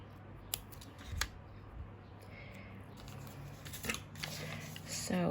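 Small scissors snip close by during work with double-sided tape for a handmade journal, giving several crisp cuts over a soft background hiss, with a faint voice in the background.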